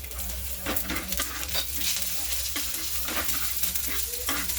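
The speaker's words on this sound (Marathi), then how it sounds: "लसणाच्या पाकळ्या उगाच 1 मिनिट भरच परतून घ्यायच्या" Garlic cloves sautéing with golden-browned onion for a spicy village-style dubuk vada curry, giving a close, steady sizzle broken by frequent scraping stirs, with no voices.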